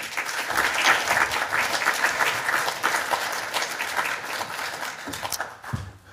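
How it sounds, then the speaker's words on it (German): Sustained audience applause at a German panel event marking thirty years of rehabilitation laws for SED injustice, dense and even clapping from a full hall for about six seconds before fading near the end. "Applaus"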